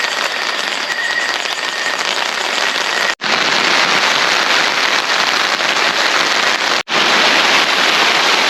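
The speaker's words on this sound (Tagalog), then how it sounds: "bumuhos yung ulan" Heavy rain pouring down at a campsite, a dense, loud, continuous roar of drops drumming steadily on surfaces nearby, with no talking.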